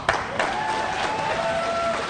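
A debate audience in Connecticut breaks into applause, a dense steady patter of many clapping hands filling a hall, loud and continuous with a sharp start.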